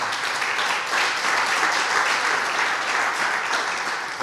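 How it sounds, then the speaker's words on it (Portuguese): Steady, loud applause from a church congregation, a dense wash of clapping that holds evenly for several seconds. "Aplauda Jesus"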